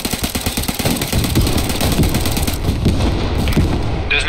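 In the Post Scriptum video game, an enemy tank explodes amid dense, loud battlefield noise, with heavy booms and crackling gunfire rolling continuously and close.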